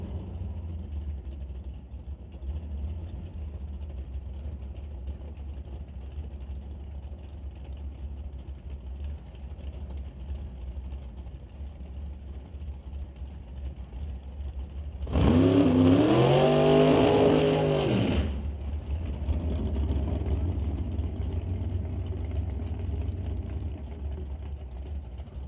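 At Mission Raceway Park's West Coast Outlaw Shootout, a drag racing car launches down the track in one loud roaring burst of about three seconds with rising engine pitch, standing out over a steady low rumble.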